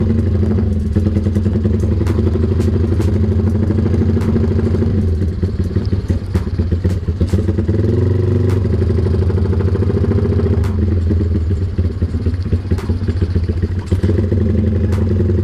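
Honda Tiger motorcycle ridden on the road, its mid-pitched engine droning loudly and continuously with throttle rises and rattling clatter, close to the rider.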